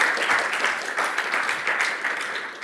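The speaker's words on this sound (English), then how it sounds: "we need an applause" An audience applauds at a conference talk on open source program offices, a dense, steady patter of many hands clapping throughout, moderately close and without speech.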